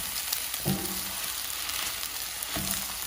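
Two scrambled eggs with crushed red pepper sizzle steadily in a pan, a constant frying hiss with a couple of soft scraping stirs of the utensil, close and continuous.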